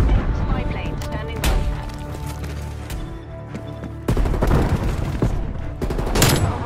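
Heavy gunfire from the ZRG 20mm sniper rifle in Call of Duty Cold War, loud booming shots mixed with rapid surrounding fire in a dense battle, with a voice talking over the action.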